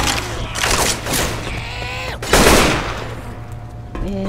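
Bursts of automatic gunfire in the zombie shooter Left 4 Dead 2, rapid loud volleys firing over a steady in-game ambient hum, with a couple of heavier shots standing out.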